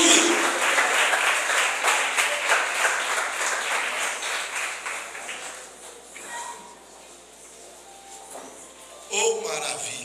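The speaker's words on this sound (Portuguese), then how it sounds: "Volta para o teu lugar abençoado e aplaudindo o nome do Senhor." A church congregation claps loudly and steadily while a voice carries over the top, then the applause thins and fades. A brief burst returns near the end.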